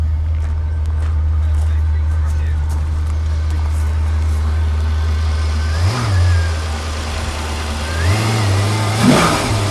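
Maserati Coupe 4200GT engine idling with a steady low drone, then two sharp revs that climb and fall back near the end, loud and close.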